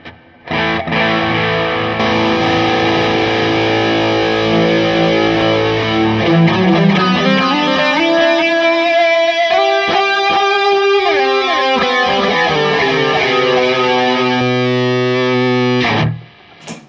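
An 80s-style rock electric guitar plays sustained, distorted notes washed in pedal delay and reverb, loud and ringing, with echoes trailing off at the end.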